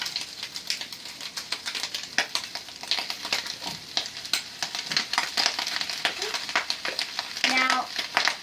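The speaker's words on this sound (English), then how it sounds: "because it's making all kinds of popping noises, we're going to go ahead and put in the cooked sticky rice" Cooked sticky rice, about eight cups, tossed into a hot pan for gluten-free ham fried rice, giving crackly sizzling and popping with scraping stirs throughout, fairly close and moderately loud.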